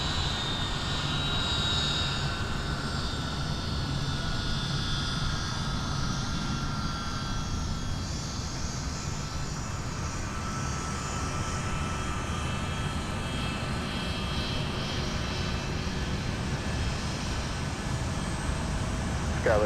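An airliner takes off from runway 12 left at Minneapolis–St. Paul airport, its engines roaring in a loud, sustained rumble that slowly shifts as it rolls and climbs away.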